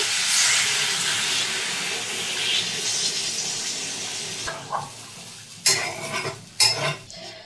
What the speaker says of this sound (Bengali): এটা ফুটে গেছে